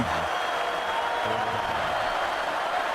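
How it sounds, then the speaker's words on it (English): A dense, roaring stadium crowd cheers steadily at a Buffalo college football game against Eastern Michigan, loud and continuous throughout. "The crowd goes wild every time that defense does something."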